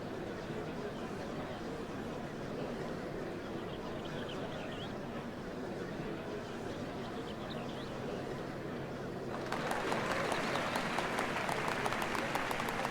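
Game crowd in Final Fantasy XIV: Dawntrail, a steady murmuring ambience that swells partway through into loud, dense applause and clapping that carries on to the end.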